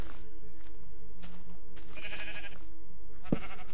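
A sheep bleats briefly in Minecraft, a short blocky call rising out of a steady ambient game backdrop, with no talk over it.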